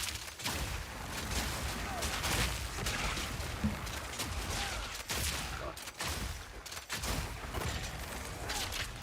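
Bombard crossbow firing in Path of Exile 2: a continuous barrage of booming shots and impacts, thick and loud throughout, with brief quieter gaps, while a voice talks faintly underneath.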